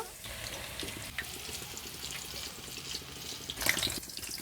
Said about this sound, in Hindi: अब हम कबाब को फ्राई करेंगे।